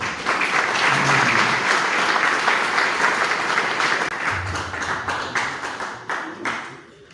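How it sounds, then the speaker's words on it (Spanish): An audience at an international history congress applauds a speaker with a full round of clapping that stays steady, then gradually thins to scattered individual claps as it fades. "Para ella pido un aplauso."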